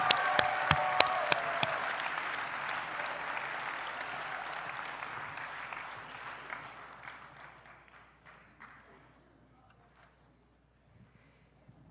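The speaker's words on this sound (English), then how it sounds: "let's give Kurt another round of applause" A round of applause fills a gala room, opening with a few sharp near claps over a dense crowd wash that gradually thins into scattered claps and fades to near silence.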